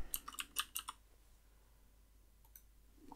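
A short flurry of computer keyboard keystrokes, about eight quick clicks in the first second while a test name is typed for an Elementor Cloud website setup, then near silence with a couple of faint clicks.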